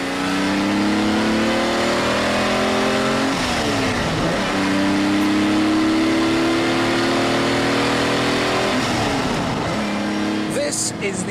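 A Lamborghini Miura supercar engine revs loudly and close, climbing through rising pitch sweeps that drop back and climb again, with a voice talking over the engine.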